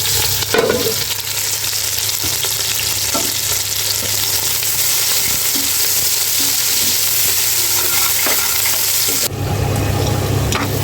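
Meat with cumin and a full mix of spices is sautéed in a pan for a dish served with khichuri. A loud, continuous close sizzle with bursts of stirring and scraping runs throughout, without talk.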